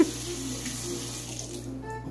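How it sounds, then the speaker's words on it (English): Steady cold tap water splashing as quinoa is rinsed in a strainer over a sink, continuous and close, with no voices. "So what I'm doing is I'm just straining it with cold water."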